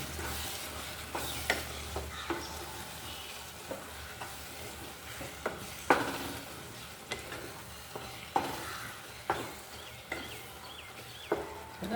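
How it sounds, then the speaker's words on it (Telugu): Spicy raw prawn curry with tomato is stirred in a pan, giving a rhythmic series of scraping strokes roughly once a second over a steady low sizzle, close up with no talking. "ఇవన్నీ బాగా కలిపేసుకొని మనం మళ్ళీ మూత పెట్టుకుందాం"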